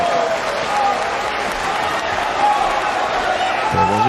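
A snooker crowd at the Shanghai Masters breaks into steady, loud applause that continues throughout, with a commentator talking over it.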